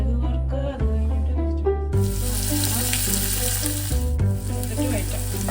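Mustard seeds spluttering and popping in hot oil for a tomato rice lunch, a loud continuous sizzle with a sharp burst of crackling as the seeds start to pop, steady and close with no talk.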